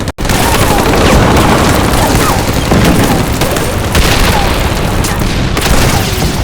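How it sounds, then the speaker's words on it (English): Loud, dense barrage of booming explosions and shell bursts from a night tank battle in the Pacific, blasts overlapping continuously with rattling gunfire throughout. "Explosions and shell bursts illuminate the battlefield."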